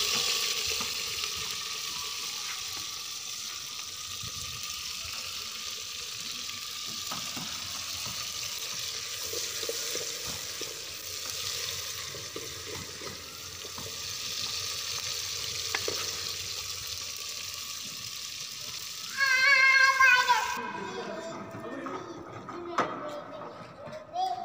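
Garlic and onion fry in a pan for a Punjabi dish, a soft continuous sizzle with occasional stirring taps, heard close beneath a speaking voice.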